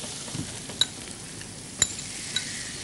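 Chicken mince going into a hot pan for a home-style cooking dish, with a soft steady sizzle under a few sharp spoon clinks against the pan and quiet stirring.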